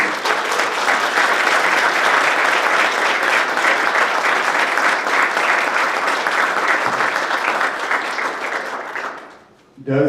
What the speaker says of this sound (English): So if you could join me in just giving them a round of applause, please